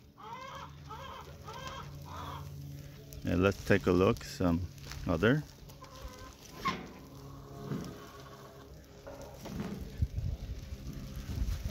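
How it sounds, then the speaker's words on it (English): Hens clucking in a backyard flock of chickens, several birds calling in short bursts at moderate distance while a person talks over them. "And here we have other hens."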